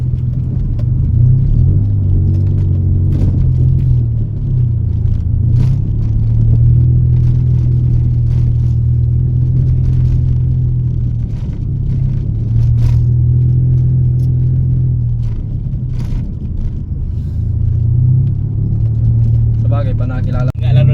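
A car engine runs steadily close by, a low rumbling idle that swells and eases slightly in waves, with people talking over it throughout.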